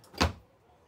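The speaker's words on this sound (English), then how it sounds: "Pull out drawer here." A pull-out drawer in a 2023 Keystone Montana High Country fifth-wheel RV slides open in one quick, close, soft thud that fades into quiet.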